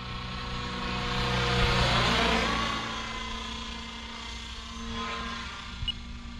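An Align T-Rex 650X radio-controlled helicopter flies nearby with a steady whining rotor and motor drone that swells and then settles into a constant hum, with no talking.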